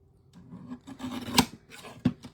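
A paper trimmer makes a few scraping, rasping cuts through cardstock with one sharp snap partway through and another near the end, close and fairly loud with no talking.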